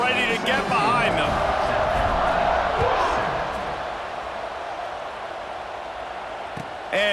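Stadium crowd in EA Sports College Football 26 roars steadily ahead of a kickoff after halftime, a dense wash of cheering that swells early and eases slightly later, under continuous play-by-play commentary.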